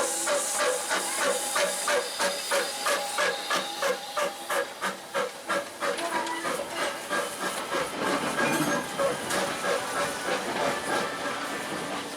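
Steam locomotive running on a garden railway at Bressingham, with rhythmic chuffing and a strong hiss of steam, plus clickety-clack from the rails, loud and continuous throughout.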